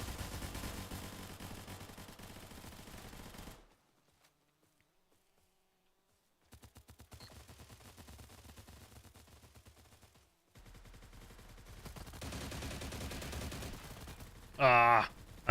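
Rapid gunfire from a weapon in the shooter game STALCRAFT, bursts of shots with pauses and near-silent gaps between, fairly close, with a brief louder burst near the end.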